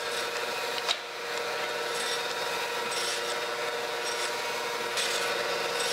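A metal milling cutter slowly down-feeds across a workpiece, a continuous steady grinding rasp close by, with faint periodic swells and no talk.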